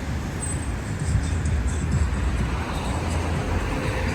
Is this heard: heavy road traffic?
yes